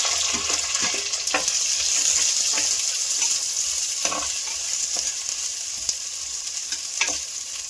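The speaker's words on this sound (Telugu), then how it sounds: "ఆనియన్ వేసుకుందామండి, అంటే ఉల్లిగడ్డ వేసుకుందాం" Chopped onions fry in a hot pan for a Telangana-style ponnaganti leaf fry, giving a steady close sizzle with repeated scraping stirs of a spoon against the pan throughout.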